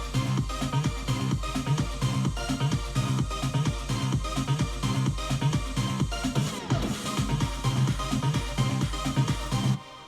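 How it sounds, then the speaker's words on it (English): Dance music production in Cubase with a pitch-down effect applied for stops: a steady, loud electronic groove with a pulsing kick and bass runs throughout, with a brief downward-sliding moment near the middle. "Pitching down. It's a really nice effect that I use for stops all the time."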